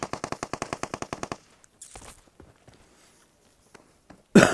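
Automatic gunfire in the mobile game PUBG Mobile: a rapid, evenly spaced burst of about a dozen loud shots, followed by quiet footsteps and faint rustling, then a sudden sharp noise at the very end.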